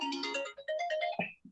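A mobile phone ringtone plays a short, bright melodic phrase nearby, loud and alone, breaking off with a final note.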